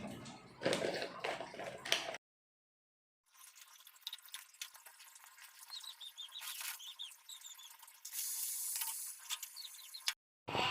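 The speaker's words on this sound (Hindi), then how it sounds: "तो फटाफट तड़का मारती हूँ।" Spices crackle and sizzle in hot oil, with bursts of spattering and a louder hiss near the end, broken by a short silence.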